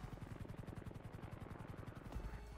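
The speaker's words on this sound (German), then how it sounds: "Sie sind halt mit dem Hubschrauber angefahren." A video game helicopter arriving, its rotor thumping in a steady rapid beat with engine rumble, faint and continuous throughout.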